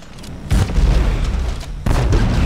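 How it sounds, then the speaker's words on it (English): Heavy elite line gun fitted with a kinetic projector firing in Dead Space 3 gives two deep, booming blasts about a second and a half apart, each with a rumbling tail. "heavy elite line gun with kinetic projector"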